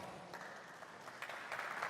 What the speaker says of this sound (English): give up a huge round of applause for Mr.